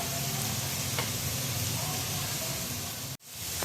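Chopped onions sizzle and hiss in a hot pan while being stirred for browning, a loud, steady frying crackle up close with a brief utensil scrape, then a sudden momentary cut before the sizzle resumes.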